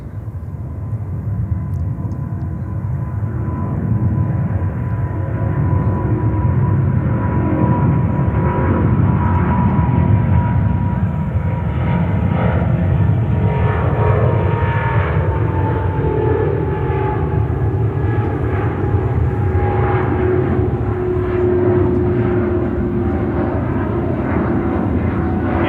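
An Avianca Cargo airplane at JFK airport roars steadily for a long stretch, a loud broadband jet rumble with a slowly shifting whine as it moves, no voices.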